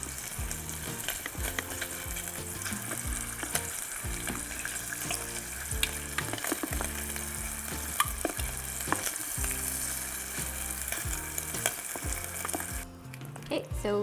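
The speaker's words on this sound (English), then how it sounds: "you just want to cook the shrimp until it stops being opaque on the inside" Shrimp frying in a Shabuki pot, a loud, continuous crackling sizzle with frequent spatula scrapes and stirring knocks, close up, easing off near the end.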